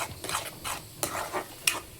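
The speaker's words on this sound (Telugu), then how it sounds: "దీన్ని ఇప్పుడు ఆయిల్ పైకి వచ్చే వరకు ఫ్రై చేసుకోవాలి" Tomato puree frying in oil in a pan for rajma curry, stirred with a spoon in a few soft scraping strokes with light sizzling and a small clink, close and fairly quiet, with no talk.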